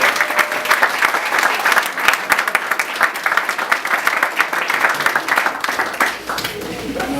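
A dinner audience at an NFL banquet claps in steady, dense applause lasting several seconds, close and lively, with voices mixed in near the end.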